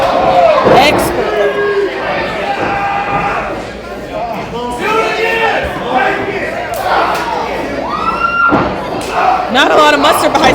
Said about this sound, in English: Not a lot of mustard behind some of these pops to the gut from Outlaw